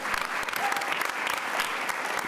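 An audience at a university event claps and cheers, dense steady applause filling the whole stretch with scattered whoops.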